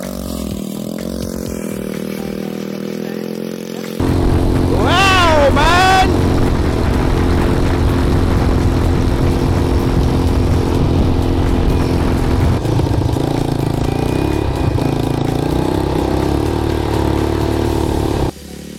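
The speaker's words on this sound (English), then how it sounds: "we are going for that desert bike" A desert bike engine drones loudly and steadily during a ride at an adventure sports spot in Varanasi, rising in revs partway through and holding a close, rough hum to the end.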